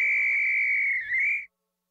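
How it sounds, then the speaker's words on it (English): A single long, loud whistle blown hard, steady and shrill for about one and a half seconds with a slight dip near the end, then silence. Part of a children's cartoon. "Hiccup Hunter Toopy took a whistle from his bag and blew it with all his might."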